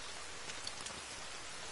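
Steady rain in the survival game The Forest, a dense, even hiss of falling drops with faint patters, continuous and fairly quiet with no voices.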